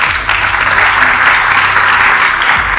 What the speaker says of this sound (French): je pense que ça mérite une bonne main d'applaudissements